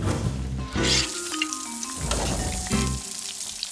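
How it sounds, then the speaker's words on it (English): Egg-and-breadcrumb-coated balls frying in 350-degree canola oil, a close, continuous crackling sizzle like steady rain, with some brief clattering and low thumps under it. "fry them up in 350-degree canola oil until they're golden and"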